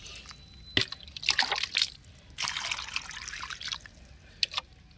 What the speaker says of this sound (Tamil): நடவு செஞ்ச உடனே இந்த செடிகளுக்கெல்லாம் தண்ணி கொடுத்துடணும்